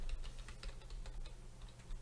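Quick light keystrokes tapped on a computer keyboard while a tracert command is entered, an uneven run of close, soft clicks with no talking over them.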